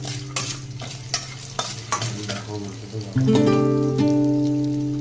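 Asafoetida with garlic is sautéed in a hot pan for rava idli. Stirring scrapes and clinks come first, then a loud steady sizzle bursts in and continues to the end, with no speech.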